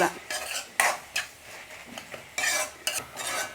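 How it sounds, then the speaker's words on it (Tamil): A spoon stirs squid gravy in a pan, scraping and clinking against the metal in irregular bursts under a light sizzle, close and fairly clear. "நல்லா கிளறி விடணும்"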